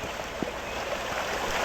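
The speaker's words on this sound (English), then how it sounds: "There's a waterfall here, so that means there's water above as well." A waterfall in a video game by Lake Ophelia, a steady broadband rush of falling water filling the whole short stretch, even and continuous with no voices.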